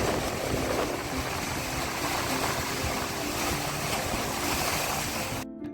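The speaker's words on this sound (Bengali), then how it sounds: "ঢেউয়ের গর্জন আর মন্দারমণির এই শান্ত সকাল খুব ভালো লাগছে।" Ocean surf roars steadily and loudly on the sea beach at Mandarmani in the morning, a continuous broadband wash of breaking waves that cuts off abruptly at the end.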